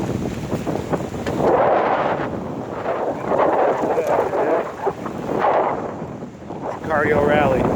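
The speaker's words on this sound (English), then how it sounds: "Super windy blower here." Strong gusts buffet the microphone at Venice Beach, coming in heavy surging rushes that rise and fall, with a voice talking intermittently underneath.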